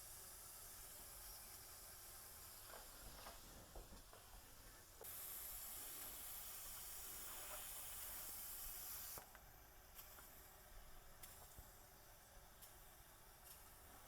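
Air vents through the anti-vacuum valve of a Bellman stovetop milk steamer with a steady, fairly faint hiss that runs throughout and swells louder for a few seconds midway before settling back.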